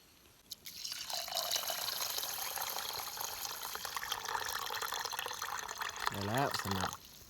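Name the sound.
water poured into a pot of rice for cooking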